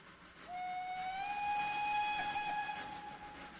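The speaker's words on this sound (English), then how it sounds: "I could hear the whistle." A single long steam train whistle sounds, steady and somewhat distant, holding its tone for about three seconds before fading.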